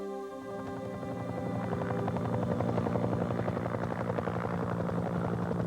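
A helicopter flies out toward the Antarctic dry valleys, its steady rotor thump and engine drone loud and close, growing slightly fuller as it goes, with no voices.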